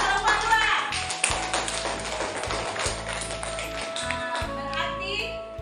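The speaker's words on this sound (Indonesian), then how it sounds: "Oke, tepuk tangan kelompok" A classroom of students claps for a group after a lesson presentation, a fairly brisk, patterned burst of hand claps with voices and some tonal sound mixed underneath.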